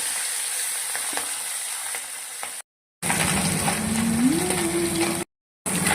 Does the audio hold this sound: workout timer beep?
no